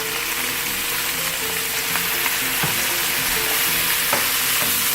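Chicken coated with cumin, coriander and red chili powders and salt being mixed in a hot pan, giving a dense, continuous sizzle with occasional soft scraping strokes and no talking.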